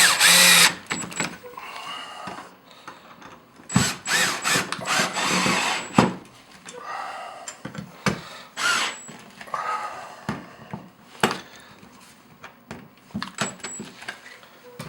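A cordless screwdriver drives and tightens four screws on a DeK-It mount installed on a bass boat, in repeated short whirring bursts with clicks and handling noise between them, close by.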